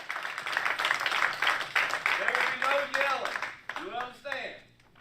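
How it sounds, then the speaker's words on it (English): Audience clapping at a congressional hearing room, a broad patter of hands heard through the room while people talk over it nearby. "People are clapping already?"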